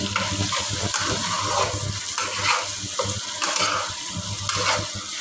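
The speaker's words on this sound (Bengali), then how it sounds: "দেখেন এই পর্যায়ে আমি পেঁয়াজ কুচিটা দিয়ে এখানেই ভেজে নিচ্ছি।" Chopped onion frying with garlic in a pan for garlic chicken, giving a steady close sizzle with intermittent stirring and scraping and no speech.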